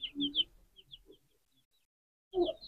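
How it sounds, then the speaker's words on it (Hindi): An Aseel rooster gives a few short clucking calls, close and fairly faint, with a brief quiet gap between the first burst and a final short call. "और ये मुर्गा है"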